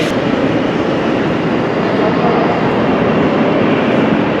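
Loud, steady rumble of a train inside a railway station in Luxembourg, with continuous rolling roar filling the space and no voices.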